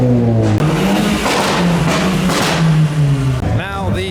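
A car making an entrance at a JDM car meet, its engine droning loud and close with rising and falling revs, ending in a whining sweep, amid crowd noise.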